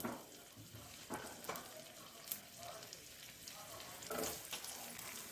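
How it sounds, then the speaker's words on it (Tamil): Onions sauté in a pan with a soft, steady sizzle and scattered crackles and stirring scrapes, faint and close, with no voices. "வெங்காயம் போட்டு நல்லா வதக்கிக்கலாம்"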